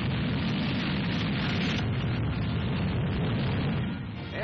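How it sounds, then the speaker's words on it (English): A huge V2 missile roars off the launch pad at White Sands, New Mexico, in old newsreel footage: a loud, steady, broadband rushing thunder that fills the whole clip and eases slightly at the end. "the huge missile takes off."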